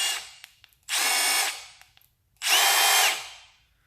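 Milwaukee 3/8 inch stubby cordless impact wrench spinning freely at different speeds: two bursts of high motor whine, the second longer, between quiet trigger clicks, close and clear.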